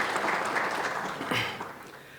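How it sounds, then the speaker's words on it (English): At a digital governance conference, an audience breaks into full applause that starts strong and gradually fades away. "I would like to request everyone to give a huge round of applause"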